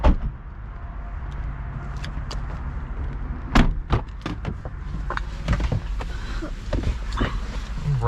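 Door of a 2021 Jeep Wrangler 4xe Rubicon being opened and shut as someone climbs in, heard as a few sharp clunks and thumps close by over a steady low hum, followed by softer rustles and small knocks.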